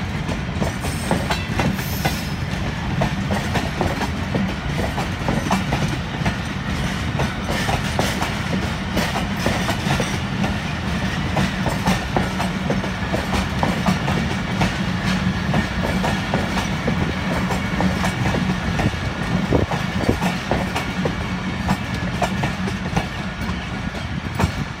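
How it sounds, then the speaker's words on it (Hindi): Pakistan Railways 36 Down Sir Syed Express passing close by, a steady loud rumble of wheels with continuous clickety-clack over rail joints for the whole stretch, no voices. "ये थी 36 डाउन सरसैयद एक्सप्रेस।"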